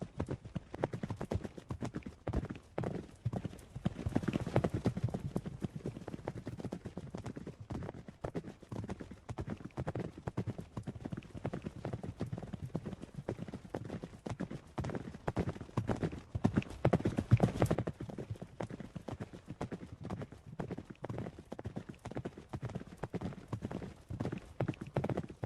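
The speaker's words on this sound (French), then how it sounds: "Puis commencent à échauffer leurs chevaux au galop." Horses gallop around an arena as riders warm them up at an internal show, their hoofbeats a steady, fairly distant drumming rhythm that runs throughout with no talk over it.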